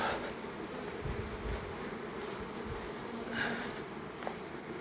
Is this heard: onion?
no